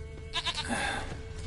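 A goat in The Witcher 3 video game lets out one brief quavering bleat over steady game ambience, close and with no talk.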